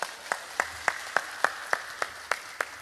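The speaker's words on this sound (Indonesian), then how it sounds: "tepuk tangan disit kok." Sparse, evenly spaced claps ring out at a large Islamic religious gathering in Wonosobo, about ten distinct hand claps in a slow regular rhythm, fairly faint and roomy.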